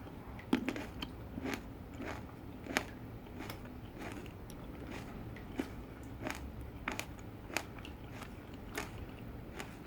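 Someone bites and chews cherry tomatoes in a steady series of crisp, close crunches and wet squelches, spread through a quiet room with no talking.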